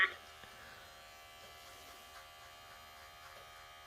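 An electric hair clipper buzzes faintly and steadily while trimming hair, a thin continuous hum after a brief opening click, with low murmuring in the background.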